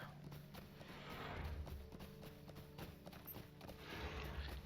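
Horse hooves clip-clop in a steady rhythmic gait while riding in the Lord of the Rings Online video game, quiet and even throughout with light ambient sound behind.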